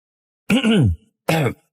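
Two short, light coughs a moment apart, close and clear against silence.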